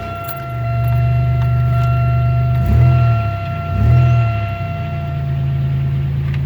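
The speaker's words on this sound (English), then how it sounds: "I do like that muffler rumble though" A 1999 Chevrolet Malibu engine idles with a low, steady muffler rumble, swelling briefly twice as it revs, close and without talk.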